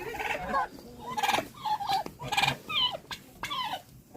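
Turkeys gobble in a farmyard, several rapid warbling bursts repeating every half second or so, fairly faint and at a moderate distance.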